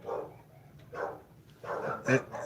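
A neighbor's dog barks repeatedly at a distance, several separate barks spread irregularly across a couple of seconds, with a faint voice in the background.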